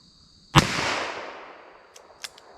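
A single gunshot from a .32 H&R Magnum revolver with a 4.2 inch barrel, fired single action, gives one sharp report with a rolling outdoor echo that fades over a second or two.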